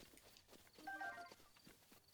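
Horses in The Legend of Zelda: Breath of the Wild make soft clip-clopping hoofbeats and stirring sounds, faint and somewhat distant, with a brief tonal chime in the middle.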